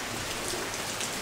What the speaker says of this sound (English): We got caught by rain and thunder.